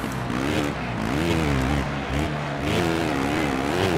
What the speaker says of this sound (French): Le bruit est plutôt bien fait, je trouve, de la moto.